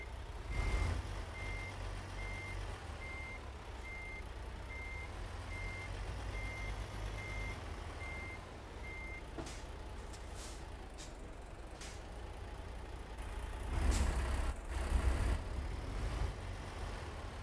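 Truck reversing beeps from American Truck Simulator, an evenly spaced electronic beeping over a steady diesel idle for about eight seconds, then air brake hisses and engine rumble toward the end, with no talk.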